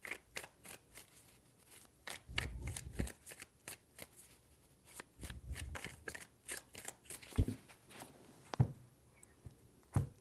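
Tarot cards are shuffled by hand in repeated quick riffling bursts, close and fairly quiet, with short pauses between rounds and a few soft taps as the deck is squared.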